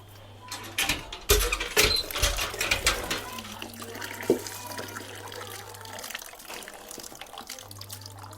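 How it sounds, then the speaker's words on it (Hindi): Carrots being washed by hand under running tap water for carrot halwa, with irregular splashing and clunking bursts near the start, then a steady close stream of water running alone. "ये हम गाजर धो लेते हैं"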